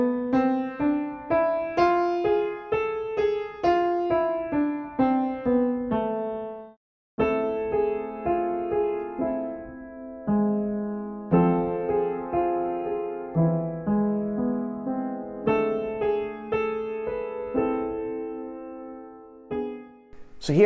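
Piano notes climb and descend one at a time in an even stepwise A harmonic minor scale, played clearly with no voices.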